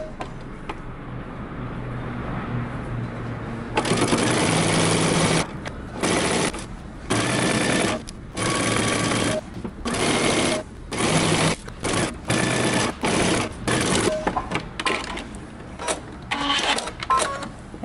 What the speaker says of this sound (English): now we're going to go to the sewing machine and we're going to stitch all the way from the center back down one end